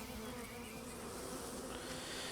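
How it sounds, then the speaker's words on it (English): Honey bees drone around an open hive, a close continuous buzz that holds steady and fills the whole moment with no voices. "So we may get some grumpy bees."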